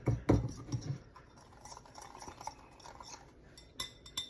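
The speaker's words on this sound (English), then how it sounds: "So now we're going to mix our spices together and start working on our sauce." Spices, including cinnamon, being stirred together in a bowl with a utensil, giving a few clinking taps at first and then soft, faint scraping and pattering, close and quiet without talk.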